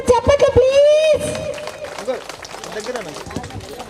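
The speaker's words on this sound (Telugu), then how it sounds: "గట్టిగా ఒకసారి అందరూ చప్పట్లు ప్లీజ్" Audience applause at a Kakatiya Kamma community service association picnic gathering in Darsi: a voice rings out, then a crowd's scattered clapping and murmuring chatter continue steadily.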